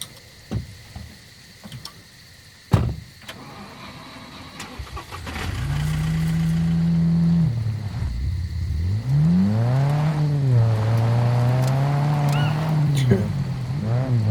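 A car in the survival game SCUM starts up and drives off, its engine rising and falling through revs after some clicks and thumps, with voices talking over it.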